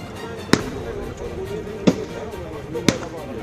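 Three sharp police gunshots crack out at uneven intervals during an encounter, fired from cover behind a tractor, each a loud isolated bang over a steady background hum with faint voices.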